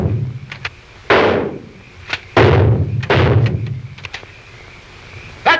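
Several loud gunshots crack out in an irregular volley in a 1942 film, some with booming echoes and thuds between them.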